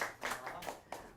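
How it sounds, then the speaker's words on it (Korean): A few scattered hand claps at a small community reading-club gathering in Gwanak, faint and sparse: several separate soft claps rather than a sustained round. "박수 쳐주셔도 됩니다"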